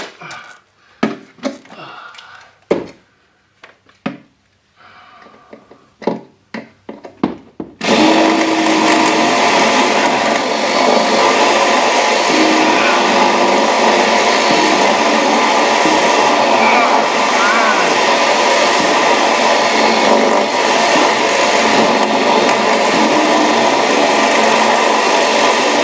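Scattered knocks and handling noises give way to a loud, continuous motorized whine of a power drill running steadily for the rest of the clip, drilling on a Ski-Doo Rev 800 snowmobile.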